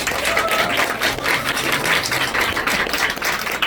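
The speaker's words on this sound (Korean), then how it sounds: "이 음식을 만들어준 서다솜 작가에게 박수 한 번 부탁드리겠습니다" A crowd applauds the artist Seo Dasom, who made the food, at the opening of the Gangneung International Art Festival; dense, steady clapping fills the whole stretch at close range.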